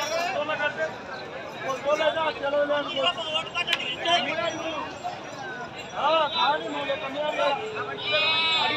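Goats bleating amid the bustle of a busy weekly village livestock market, with several short nasal calls rising over a steady crowd murmur and people talking nearby.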